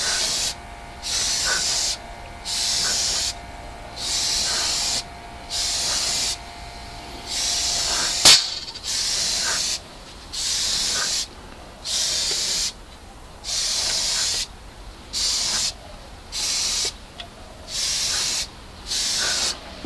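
An airbrush sprays Alclad paint onto a model car body in short, evenly spaced hissing bursts separated by brief pauses, loud and close, with one sharp click midway.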